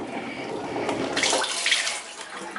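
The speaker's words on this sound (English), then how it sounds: "Just pump the water." An old hand water pump in a historic kitchen sends water splashing and gushing into a sink, the flow swelling louder midway and continuing steadily at close range.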